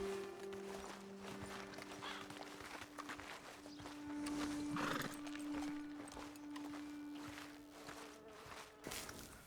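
Horses in the video game Red Dead Redemption 2 whinny and clop their hooves on a road, with steady hoofbeats and a clear neigh midway, set against game music and ambient sound.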